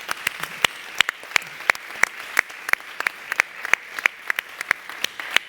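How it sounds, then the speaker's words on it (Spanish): A small audience claps at a volunteer associations gathering, sparse and uneven with individual claps standing out sharply, fairly close, no voices over it. "Un aplauso para ella."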